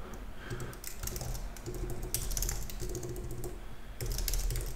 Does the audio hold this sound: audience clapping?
no